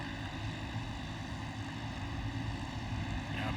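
Short course karts race on a dirt track at the Crandon Brush Run, their engines a steady, distant drone held at a constant level for the whole stretch, with no voices over it.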